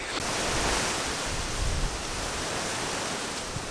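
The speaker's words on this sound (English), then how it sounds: "So I'm just having to wait long enough for a lull in the wind and just keep taking shots." Strong autumn wind blowing outdoors, a loud, continuous broadband rush and buffeting across the microphone with no letup.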